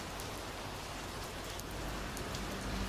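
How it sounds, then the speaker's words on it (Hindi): Heavy monsoon-style rain pours steadily over Lahore, a dense, even hiss of drops hitting surfaces throughout, with no voices and no thunder. "शहर में बरसने वाली मूसलाधार बारिश से मुतअद्दद इलाकों में पानी भी जमा हो गया है"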